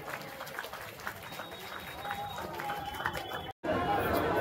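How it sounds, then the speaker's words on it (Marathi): An audience at a temple ground-breaking ceremony claps in welcome, a steady patter of many hands with crowd chatter mixed in and a brief dropout near the end. "सर्वांनी टाळ्या वाजवायच्या."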